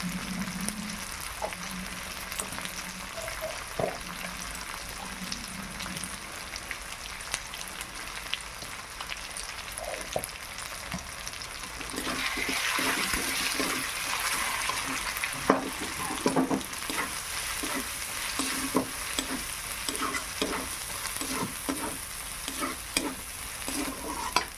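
Turmeric and chili powder sizzle with ginger and garlic in hot oil, a steady close frying hiss broken by occasional stirring knocks and scrapes, getting louder and brighter partway through.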